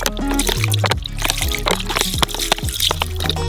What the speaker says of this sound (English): pour some soy sauce.